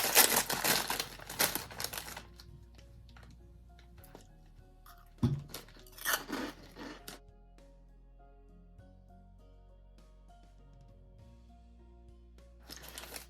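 Crunchy crinkling and munching from someone eating cheese and onion flavoured Hula Hoops puffed grains, with loud bursts at the start, quieter chewing in the middle and a final rustle near the end.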